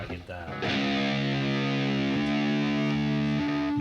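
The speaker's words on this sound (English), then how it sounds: "Now I'm back to regular 440," A distorted electric guitar in drop D at standard 440 tuning with the drop pedal off strikes one thick, loud chord that rings and sustains for several seconds with a slight shift partway, played alone.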